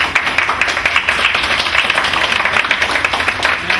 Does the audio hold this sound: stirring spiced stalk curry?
no